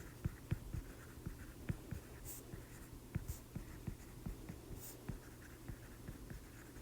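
Equation working is written out by hand, a close, quiet run of scratchy strokes with a steady tapping rhythm over a low background hum and no talk.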